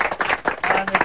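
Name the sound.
applause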